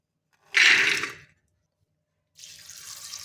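Water poured into a pressure cooker holding fresh green pigeon peas set to boil: two separate splashing pours, the first louder and fuller, the second a softer, steadier trickle, each close by with a silent pause between them.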